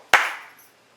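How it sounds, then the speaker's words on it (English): One crisp, close hand clap in a phonics listening game for students, striking sharply from near silence and fading quickly with a short room ring. "you need to clap once"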